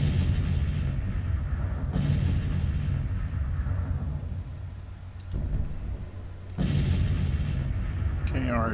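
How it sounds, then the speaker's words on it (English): Artillery fires in a Civil War battle game at the Battle of Drummondtown. Two sharp, distinct cannon booms stand out over a steady low rumble of battle noise, with a softer pop in between. "our artillery is firing now"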